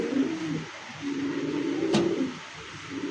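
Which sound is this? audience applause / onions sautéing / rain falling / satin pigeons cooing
satin pigeons cooing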